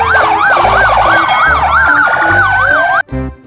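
A toy police car siren wails loudly and close, rising and falling in a fast repeating electronic sweep. Under it runs a low pulsing buzz. The sound breaks off suddenly near the end and is followed by a short, lower blip.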